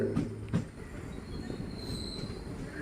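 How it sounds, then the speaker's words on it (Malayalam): Train pulling into Feroke railway station, wheels rumbling and squealing with two short sharp clanks near the start, heard from on board. "ട്രെയിൻ അങ്ങനെ ഇതപ്പം ഫറോക്ക് റെയിൽവേ സ്റ്റേഷനിലോട്ട് എത്തിയിരിക്കുകയാണ്"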